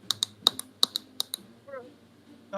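Teeth clicking together in a rapid series of sharp, close clicks in an irregular rhythm, then briefly stopping as a quiet voice or sound enters near the end.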